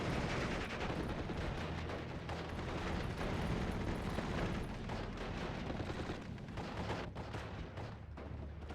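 Dense, continuous battlefield din of rifle and automatic fire from SS infantry in the WWII strategy game Steel Division 44, heavy booming shots rolling over one another at steady loudness with no pauses.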